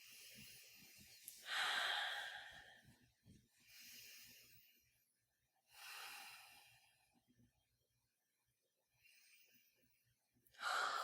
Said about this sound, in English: put a drop in your hand, rub it together, and take 3 deep breaths.